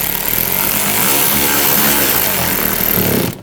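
Power driver snugging down screws while a drive belt is replaced on a 2014–2020 Nissan Rogue 2.5L four-cylinder: a loud, sustained motorized whir runs close up for about three seconds and then cuts off abruptly.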